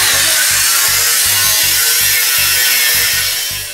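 A saw cuts away a rusted section of the steel body of historic tram trailer car 113, grinding loudly and close in a steady rhythm of about two strokes per second. The cutting fades slightly at the end, with no talking.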